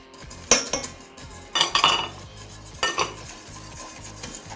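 Spoon scraping and stirring star anise, cinnamon and other spices into a simmering pot for gingerbread with dried fruit, with three bursts of clinking stirring over a low, steady background hum.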